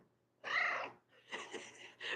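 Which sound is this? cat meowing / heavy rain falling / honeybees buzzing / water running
cat meowing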